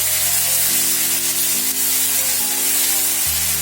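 Spices and potato sizzle in a pan of hot oil with a steady, close, continuous frying hiss, joined by soft scraping as the mixture is stirred.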